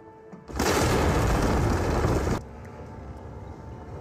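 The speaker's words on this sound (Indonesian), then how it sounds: "tiba-tiba saja terdengar suara ledakan dari dalam gua" A loud, sustained rumbling blast of an explosion inside a cave erupts suddenly, roaring for about two seconds before cutting off into a lower steady hiss of background noise.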